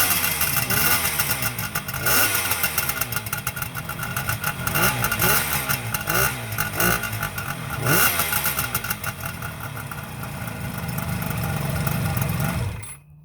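A Kawasaki motorcycle from a collection of vintage bikes is fired up and revved, its engine rising and falling through several loud blips before settling, close and dominant.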